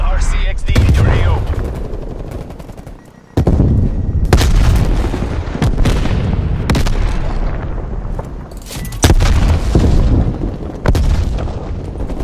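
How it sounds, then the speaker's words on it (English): Incoming artillery barrage in the Call of Duty: Black Ops Cold War multiplayer game, with heavy booming impacts and gunfire layered over continuous loud battle noise; sharp explosive hits land every few seconds, including big blasts near the four- and nine-second marks. "Net call, incoming artillery."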